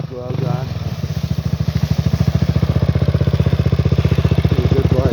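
A Honda TRX400EX ATV with an aftermarket exhaust runs on ice, its engine loud and close in a steady, throbbing drone with rapid pulsing firing beats; a voice speaks briefly near the start.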